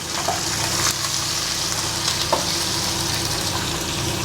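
Crushed garlic fries in hot oil with a loud, close, continuous sizzle, broken by a couple of faint utensil clicks against the pan.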